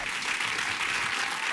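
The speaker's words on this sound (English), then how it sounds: "Give him a big round of applause" Loud, dense applause fills the clip, a crowd clapping steadily and continuously with no voices on top.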